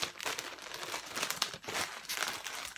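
Packaging for curly hair extensions being opened by hand, with quiet uneven crinkles and rustling tears coming in several bursts up close.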